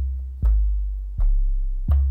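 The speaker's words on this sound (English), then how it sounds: "if I don't use the compressor, my bass is going to sound like this" Three separate bass guitar notes played dry through an effects chain with no compression, each a sharp low pluck that fades quickly with no sustain, spaced evenly with silence between them.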